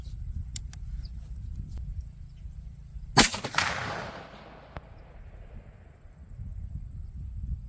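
A single sharp gunshot from a CVA Optima V2 .50 caliber muzzleloader firing a Barnes bullet outdoors, a loud crack midway followed by a rolling echo, with quiet ambience before and after.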